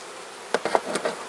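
Honey bees crawling over hive frames during an inspection, heard as a handful of short, close buzzing bursts in quick succession after a moment of quiet hiss.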